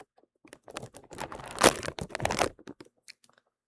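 A plastic bag is crinkled and handled close up in a whisper-quiet setting, a run of crisp crackling bursts building to a louder crunch in the middle, then trailing off into a few scattered rustles.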